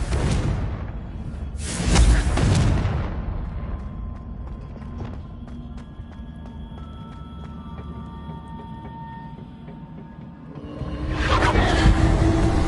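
The Confringo fire spell in Hogwarts Legacy bursts with a loud whooshing boom, followed by a creaking, rumbling stretch that fades and then a second heavy blast near the end.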